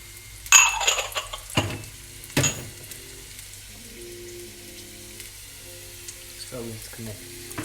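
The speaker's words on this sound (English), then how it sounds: "So I'm going to add the rest of the oil. Add some red onions. I used half a red onion, and add some garlic as well." Red onion and garlic go into hot oil, giving a couple of sharp clatters followed by a low, steady sizzle, close and fairly quiet, with no talking.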